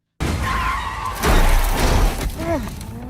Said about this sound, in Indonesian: Mobil Jan menabrak pembatas di saat Jack ikut di dalamnya.